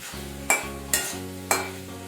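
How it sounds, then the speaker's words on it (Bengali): Fried potatoes stirred back into a pan of spices for a vegetarian young-jackfruit curry, with three sharp scraping stirs of a spatula over a steady low sizzle, close and fairly loud, no talk. "আলুগুলো দিয়ে আবারও ভালো করে একটু কষিয়ে নিচ্ছি"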